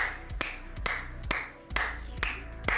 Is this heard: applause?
yes